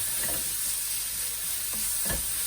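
A small batch of fried chicken noodles being stir-fried makes a dense, steady sizzle close by, with occasional scrapes as the noodles are kept moving.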